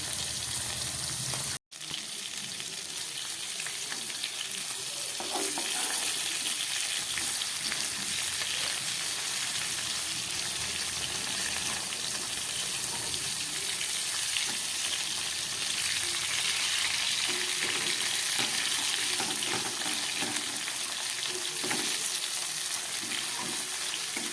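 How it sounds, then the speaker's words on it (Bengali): Pieces of Bhola fish frying in oil in a pan, a dense continuous sizzle that holds steady and close for the whole stretch after a brief break near the start, with no voices. "একটু সময় ধরে আমি মাছগুলোকে খুব ভালো করে ভেজে নিচ্ছি।"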